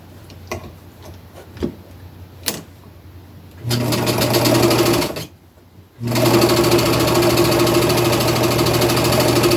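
A sewing machine stitches the hem along the top of an upcycled braided boho beach dress, running in two steady bursts of a few seconds each with a short pause between, loud and close.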